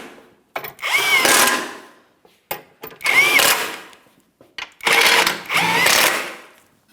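A power tool on a GMC Sierra 2500 HD runs in several short bursts to snug the Pitman arm shield bolts, loud and close, with brief pauses between them.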